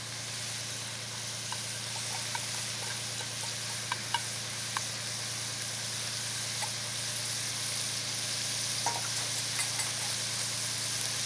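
Celery stalks for a Hawkeye stew fry in a pot, a steady, even sizzle with a constant hum beneath it and occasional small pops and crackles.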